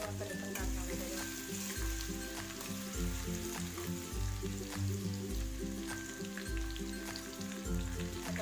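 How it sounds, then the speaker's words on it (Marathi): Garlic and ginger fry in hot oil, a steady close crackling sizzle with occasional stirring, continuous and fairly quiet with no voices. "तेल गरम झालेले, आपण लसूण घालून घेऊया त्याच्यात, आलं पण घालून घेते"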